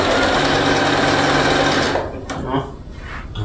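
A home sewing machine, sewing quilt pieces without thread and in need of cleaning, runs with a loud, steady mechanical whir. It stops after about two seconds, leaving quieter handling noises.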